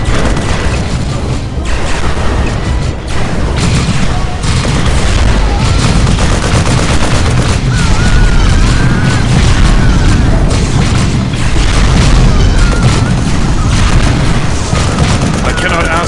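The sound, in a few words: gunfire and explosions in the video game Dawn of War Soulstorm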